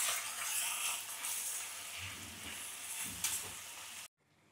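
Masala paste sizzles and fries steadily in a pan for mutton ghee roast, a dense close crackle with light stirring, cutting off abruptly near the end.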